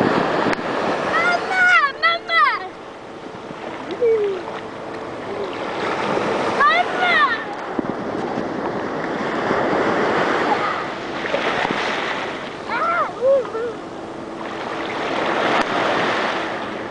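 Surf washing onto a sea shore at a beach, a steady loud roar of breaking waves throughout, with excited voices calling and shouting over it at intervals.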